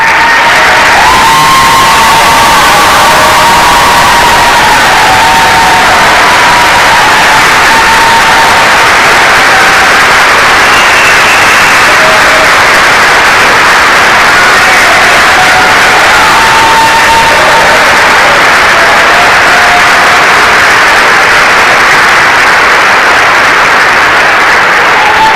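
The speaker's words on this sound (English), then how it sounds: "Let's give these students one more round of applause" Crowd at a 2018 Ancilla College graduation ceremony applauding and cheering in a loud, sustained wall of clapping with whoops and shouts, steady and close for the whole stretch.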